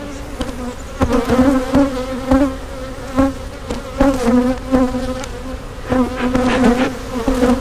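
Dense, steady buzzing of many honeybees close by at an open hive, a continuous droning hum with wing-beat tones rising and falling, no voices.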